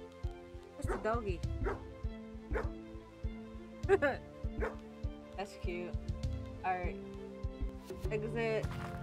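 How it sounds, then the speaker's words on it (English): A dog in the video game Pesticides Not Required barks and yips in a string of short, bright calls over steady background game music, with a person speaking briefly among them. "Doggy."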